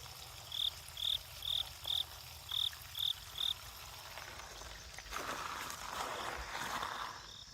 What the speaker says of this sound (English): with the exception of that loud cricket and the crows in the distance